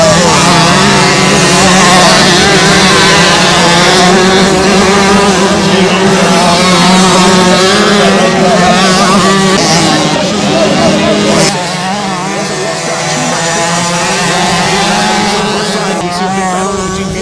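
50cc motocross bikes race at Phakisa MX Park during a 2019 national MX round, their engines giving a continuous high, buzzing drone that stays loud and near while a commentator talks over it.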